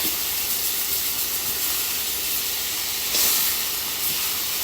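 Chicken tenderloin cooking in a pan on the stove gives a loud, continuous sizzling hiss with a brief swell near the end; no talk over it.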